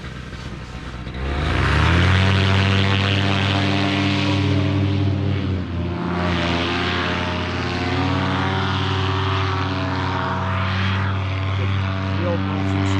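A small 150 cc two-stroke engine on an aircraft runs loud and near, rising to a steady, buzzing propeller drone that holds and wavers slightly in pitch as it flies.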